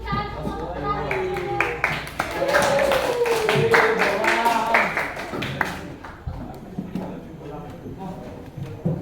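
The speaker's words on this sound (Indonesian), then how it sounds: "Kita beri tepuk tangan untuk kelompok terakhir." A room of teachers or students claps for the last group at a coaching and supervision session. The applause is a brisk burst of many hands for a few seconds, with chatter and young voices around it, then it tapers off.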